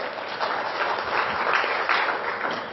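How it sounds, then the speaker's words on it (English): Audience applauding at an education officials' meeting in Mombasa, Kenya: dense, steady clapping from a room of people that holds at a fairly even level throughout, with no talk over it. "Another round of applause for Professor Munavu"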